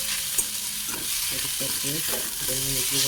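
Maggi noodles being stirred with onions in hot oil: a steady broadband sizzle with repeated scraping stir strokes, close and fairly loud, with no talking.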